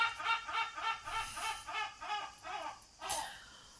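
Birds squawk and chirp in a rhythmic, repeated series of about eight clucking calls, moderately faint and without any talk over them.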